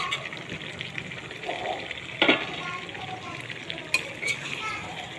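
Meat cooking in a pan with chopped tomato, green chilli and potato, stirred with occasional scrapes and light clinks over a steady soft sizzle, close by.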